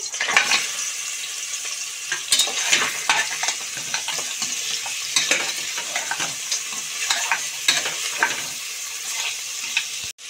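Mutton trotters (paya) hit a hot pan and fry with a loud, continuous sizzle, broken by frequent scrapes and clatters of stirring against the pan.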